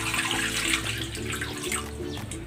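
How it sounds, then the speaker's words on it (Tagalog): Water pours steadily into a cooking pan with a continuous, fairly loud splashing wash; no one speaks. "Ilalagay ako ng tubig dito sa kawali."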